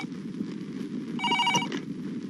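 A mobile phone rings with a short, clear electronic tone, heard once at moderate volume against a steady indoor background hum.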